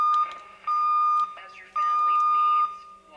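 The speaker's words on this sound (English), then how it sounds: "There's that deviation alarm again." Radio receiver deviation alarm sounding three sustained electronic beeps of a single tone, each about half a second to a second long, with short gaps and faint background noise.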